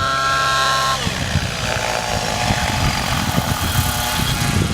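An OS 105HZ-R model engine runs loud and close, a buzzing roar that shifts pitch after the first second and then holds at a rougher, steady drone.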